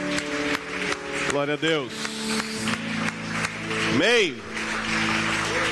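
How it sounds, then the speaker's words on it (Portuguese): A church congregation applauds during a worship service while a preacher speaks and sings over the clapping with amplified, sliding vocal phrases. "aplaude ao Senhor mais uma vez"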